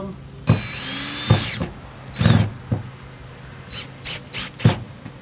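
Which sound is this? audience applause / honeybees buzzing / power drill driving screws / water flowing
power drill driving screws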